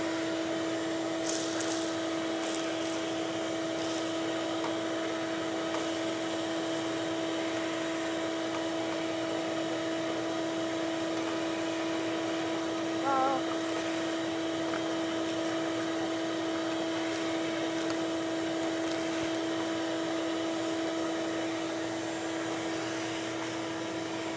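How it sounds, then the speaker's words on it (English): A vacuum cleaner drones steadily and loudly throughout, its motor whine holding a constant pitch with no pauses. "I want to vacuum it."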